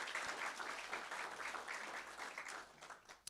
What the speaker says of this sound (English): let's give a round of applause for all the amazing kids and students who are here